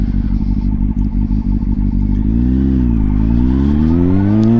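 A 20-year-old motorcycle with an aftermarket air filter and slip-on exhaust, ridden hard: the engine note climbs steadily through the revs in a loud, close, continuous run-up with no talking.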